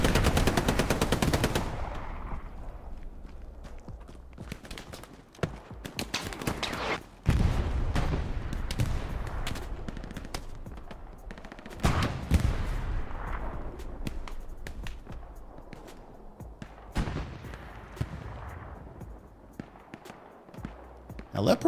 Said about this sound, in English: That Panzer IV is doing what it should do, suppressing all the infantry.